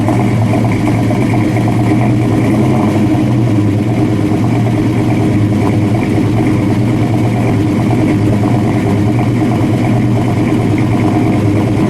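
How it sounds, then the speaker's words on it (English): A deep, rumbling 426 Hemi V8 in a 1969 Dodge Charger R/T idles steadily and loudly up close, with a lumpy, throbbing low tone and no voices. "I want you to listen to that idle."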